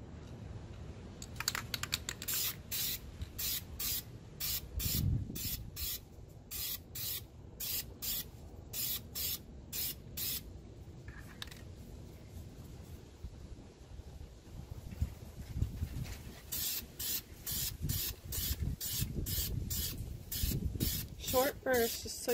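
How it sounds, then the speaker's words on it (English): Short bursts of white spray paint hiss onto a stainless steel tumbler cup outdoors, a rapid series of sharp, evenly spaced sprays close to the microphone. "I'm gonna spray paint this cup white."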